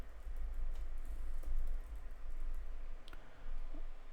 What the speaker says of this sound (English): I'm just typing on the keypad.